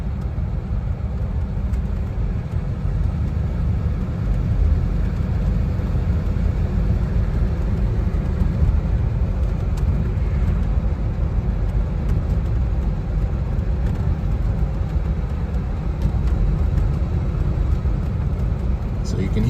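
Inside a Corsair car coasting off the gas, a steady low road and engine hum rumbles evenly throughout, smooth and unbroken with no revving.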